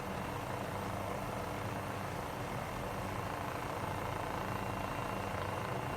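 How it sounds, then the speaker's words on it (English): An MD 500E helicopter in flight near Boeing Field and the Seattle skyline gives a constant, steady engine and rotor drone that is broadband and unbroken throughout, heard from inside the aircraft. "I'll bring the helicopter down here."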